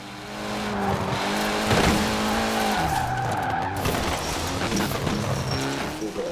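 A car in Forza Horizon 4 slides through a handbrake skid, with tyres squealing over a droning engine that shifts pitch midway, loud and continuous for several seconds with no talking.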